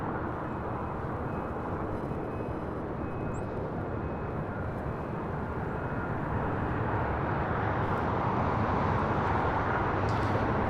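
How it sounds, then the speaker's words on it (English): Airbus A350-900 taxiing at LAX and swinging left onto a taxiway: a steady, broadband jet-engine rumble and hiss holding at even loudness throughout, with no voices. "A350-900 Flight 2202 heading to Atlanta, Georgia, making the left-hand turn onto Lima"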